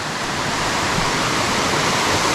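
A waterfall pours into a deep main pool on a Nova Scotia river, a steady, loud, unbroken roar of rushing water filling the whole span.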